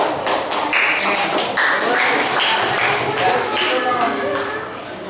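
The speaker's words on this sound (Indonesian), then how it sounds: "Ayo semuanya tepuk tangan dulu" A class of students claps for a classmate, giving brisk, loud, overlapping hand claps close by for several seconds before it thins out, with some voices mixed in.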